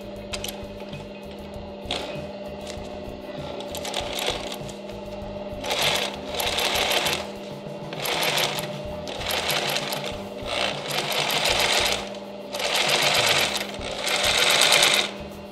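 A sewing machine stitches a seam joining the panels of a five-panel camp hat, running in repeated rapid bursts separated by short pauses, close and fairly loud.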